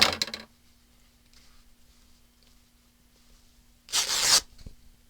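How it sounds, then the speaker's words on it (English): A composition book is cut through at its black spine, giving two short, crisp scraping bursts, one at the very start and another near the end, with near silence between them. "I'm going to cut it at that black spine"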